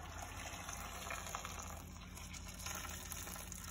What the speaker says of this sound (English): our kettle that we've already let boil, boiling water, and then we'll add this to just right in there with the tomatoes